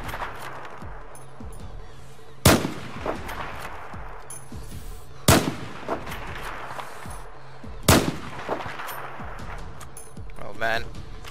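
Three sharp sniper rifle cracks spaced a few seconds apart in the Battlefield 4 video game, each loud and abrupt over a low background of game noise, with someone talking between shots.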